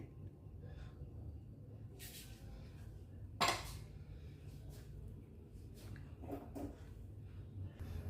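A pressure cooker is set down on the stove with a single sharp metallic clunk, followed by faint soft clinks and trickling as oil is poured in for tempering, all quiet against a low steady kitchen hum.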